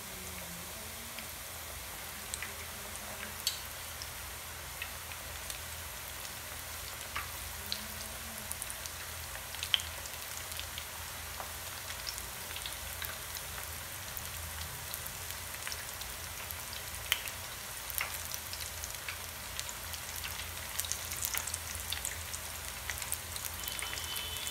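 A filled mushroom duplex fries in a pan until golden brown, giving a soft, continuous crackle with scattered tiny pops. It stays faint and even throughout, with no talk.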